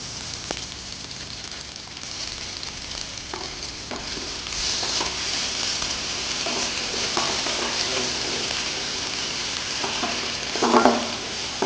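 Ginger garlic paste and green chillies sizzling in a pan while being stirred, a steady close frying hiss with scraping stir noises, cooked for a spicy brinjal fish curry.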